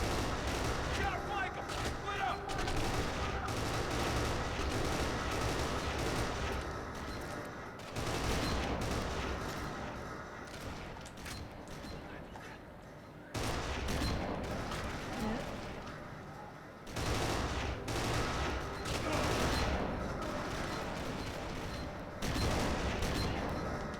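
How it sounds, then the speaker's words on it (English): Sustained gunfire in the game Kane & Lynch 2: Dog Days, with dense volleys of shots and bursts that cut off abruptly between sections, loud throughout and mixed with a talking voice. "there's people shooting me from there"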